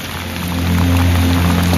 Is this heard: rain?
yes